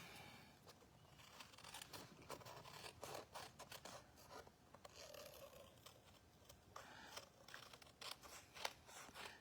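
Scissors trimming paper during a card-making craft session, a close series of crisp snipping and slicing cuts in uneven bursts, quiet and without speech.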